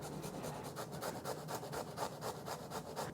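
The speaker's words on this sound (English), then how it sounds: "I'm just going to grate this piece of ginger." A piece of ginger is rubbed against a grater in quick, even rasping strokes, about a dozen close scrapes in rhythm, with no voices.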